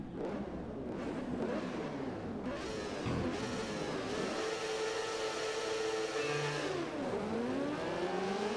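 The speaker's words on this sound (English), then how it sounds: "I felt the acceleration there" A MotoGP racing game motorcycle engine revs and accelerates off the race start at Brno, a steady loud buzzing whine rising in pitch with gear shifts throughout, no voices over it.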